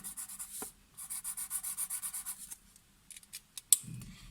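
A pencil or crayon colours in a first-grade maths workbook page in a quick run of steady scratchy strokes, close and soft, then a few scattered marks, with no talking.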